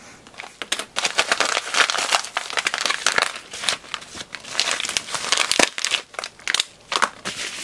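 Air-sealed packaging is pulled open with close, continuous crinkling and crackling plastic, irregular bursts and brief pauses, no voices.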